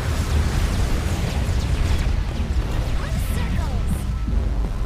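Bomb explosions in the arcade shooter Assault Android Cactus, a dense continuous roar of blasts and crashes, loud and sustained with no pauses.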